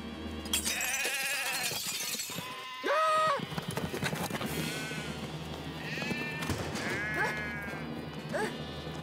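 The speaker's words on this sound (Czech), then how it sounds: "Podívejte se na mé neuvěřitelné cirkusové ovce." Cartoon circus sheep bleat several times, wavering cries over lively background music and scurrying hoof-like clatter.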